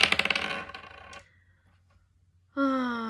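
Astrological dice are rolled, giving a quick run of bright clattering taps that slow and fade within a second, followed by near silence and then a sustained sighing tone.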